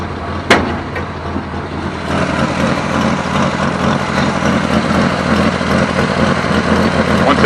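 A 1965 Plymouth Savoy engine idles steadily and close by, a continuous low rumble that grows slightly fuller after a brief knock near the start.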